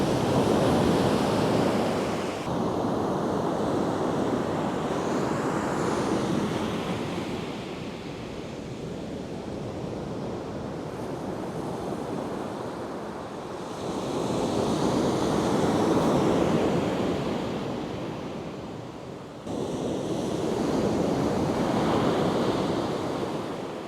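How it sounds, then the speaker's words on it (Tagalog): Ocean surf rolls and crashes in broad, repeated surges onto a rocky beach in General Nakar, Quezon, loud and close, with wind rushing over the microphone between waves. "Grabing alon."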